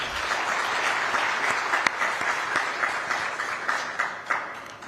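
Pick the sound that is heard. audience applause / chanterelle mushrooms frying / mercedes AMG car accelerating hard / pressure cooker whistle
audience applause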